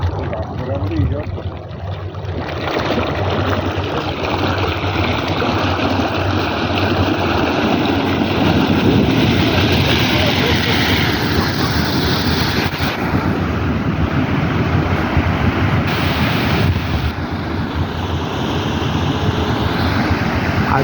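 Water blasting up out of the ground, a loud, continuous rushing roar that holds steady for the whole stretch, broad and wind-like, with a voice talking faintly underneath.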